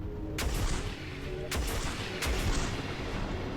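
Spaceship weapons firing in the space shooter Everspace 2, three sharp punchy blasts spaced about a second apart over a steady engine drone, moderately loud and with no talk.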